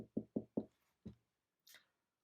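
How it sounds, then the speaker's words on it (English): Someone knocks on an inn door: four quick, solid raps, then a single knock after a brief pause, closing with a soft brushing scrape. The sound is close and clear, with no voices. "And so they knocked at the first inn."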